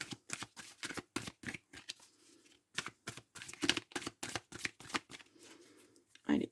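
Tarot cards are shuffled and cut by hand in quick, crisp riffling bursts, with soft talking between them.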